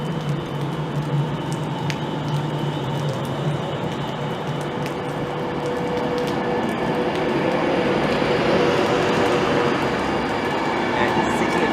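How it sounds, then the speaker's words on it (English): A Virgin Trains class 390 passes through Milton Keynes Central on the West Coast Main Line, a loud sustained rush of wheels and rail noise that swells slightly over time, with people talking under it. "the 1559 Virgin Train service from Edinburgh Waverley to London Euston"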